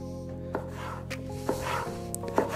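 Small pickled cucumbers being finely chopped with a knife on a board while making burger sauce, a few sparse, soft cutting taps over a quiet kitchen background.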